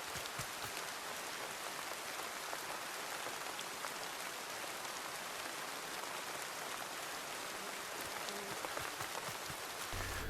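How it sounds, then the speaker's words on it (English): Steady rain falling in the video game Ranger's Path, a dense, even hiss of raindrops pattering continuously on surfaces, fairly faint and unbroken with no voices. "Some locations don't stop the rain as you would expect them to."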